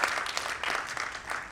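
An audience at an annual general meeting claps in a brief burst of applause, loud and dense from start to finish.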